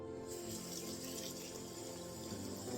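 Tap water runs in a steady, close stream while an algae face mask is rinsed off, a continuous splashing wash without pauses.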